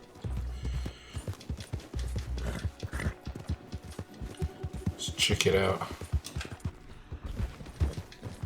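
Hooves of a horse in Red Dead Redemption 2 clip-clop in a steady walking rhythm close by, with short gaps in the pattern. Someone talks briefly over the hoofbeats.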